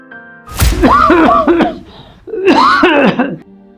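A person coughs and clears their throat harshly in two raspy, drawn-out bursts, close and loud.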